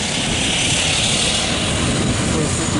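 Aircraft taking off at a redwoods-area airshow, a loud, steady broadband engine roar filling the whole stretch without a break, heard up close and with no voices over it.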